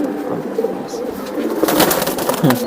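Pigeons, among them Giribaj and Silver Giribaj birds at a pigeon market, coo repeatedly close by in soft, throaty rolls over a busy background of crowd noise and nearby voices.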